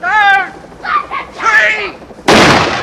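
A voice speaks, then a single sudden, loud gunshot blast fills the end of the clip with a sustained, booming burst.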